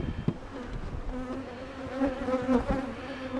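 Honey bees buzzing steadily during the installation of a nuc hive, a close, continuous droning hum with no talking.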